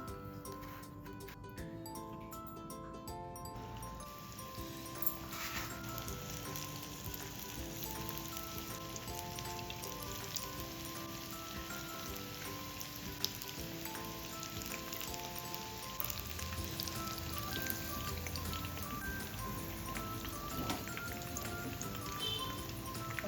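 Breaded chicken frying in hot oil for homemade KFC-style pieces, a soft continuous crackling sizzle under steady background music.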